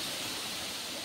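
Water pours down at Bamni Falls in Purulia, a dense, steady hiss of falling water heard up close, filling the whole moment with no other sounds.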